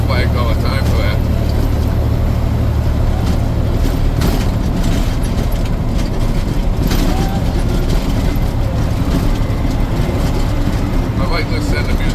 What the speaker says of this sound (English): the damn truck is noisy. Go over bumps, it's like a rattle trap.